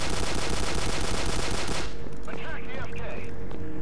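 Rapid automatic gunfire in the video game Terminator 3 rattles loudly for about two seconds, then stops abruptly, leaving quieter game sounds and a faint voice.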